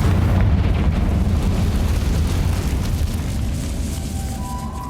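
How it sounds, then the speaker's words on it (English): A Confringo spell explosion in Hogwarts Legacy hits with a deep, heavy boom that rumbles and slowly fades, close and loud with no talk over it. "Confringo!"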